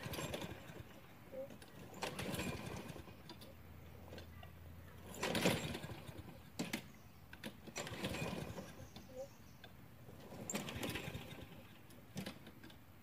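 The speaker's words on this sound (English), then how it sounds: "I went and borrowed my mother's and finished mowing the rest of the backyard." A borrowed lawn mower runs while cutting a backyard, its steady engine drone rising and falling in bursts across the clip, with some talk mixed in.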